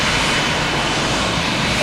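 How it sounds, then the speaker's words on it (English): An executive jet's engines roar loud and steady at a rainy airport, a continuous broad whine and rumble with no pauses and no talk. "I think first we're going to see our exec jet leave."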